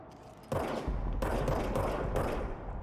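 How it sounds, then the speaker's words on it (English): Gunfire from the video game Control bursts in at about half a second and continues as dense, loud, sustained shooting with several heavier blasts, fairly close and alone with no talk. "Now I have a gun."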